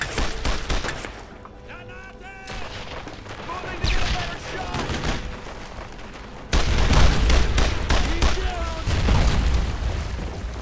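Grenade blasts and rifle and machine-gun fire crackle through a World War II firefight in Brothers in Arms, loud and continuous, with a heavy boom partway through and shouted voices mixed in.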